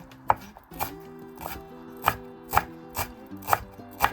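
A knife chops fresh dill for garnish on a cutting board, eight or so sharp close knocks at a steady, unhurried rhythm, with no talk.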